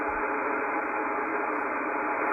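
Steady hiss of radio receiver noise from a ham radio setup while the noise antenna knob of a QRM Eliminator is adjusted, a constant loud band of static with no talking.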